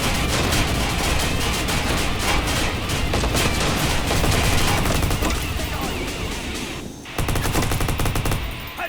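Rapid, sustained Tommy Gun bursts in the video game Watch_Dogs: dense automatic fire close and loud, continuing almost without pause, with a brief lull before the shooting resumes.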